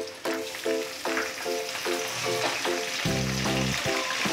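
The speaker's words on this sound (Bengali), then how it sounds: "পেঁয়াজটা বেশ লাল করে ভাজা হয়ে গেছে, আমি দিয়ে দেবো টমেটো কুচি।" Chopped onion frying in oil in a pan, with chopped tomato added, while cooking a spicy tilapia fish curry with potatoes: a steady, close sizzle runs throughout, with stirring scrapes and a fuller, deeper sizzle burst near the end.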